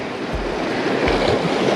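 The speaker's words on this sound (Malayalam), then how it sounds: "ഈ കടലിൻ്റെ ഒരു തിരയടിക്കുന്ന സൗണ്ടും" Sea waves breaking on the shore at Kumbalangi in Kerala: a steady, close wash of surf with low surges rolling in, carried on wind noise and no voices.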